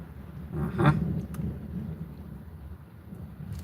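Thunder rumbles from a nearby thunderstorm, a deep rolling boom that peaks early and fades slowly under a soft background of rain, with no voices.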